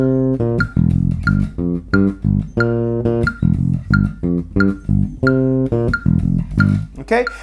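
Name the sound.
disco bass guitar riff played at 90 beats per minute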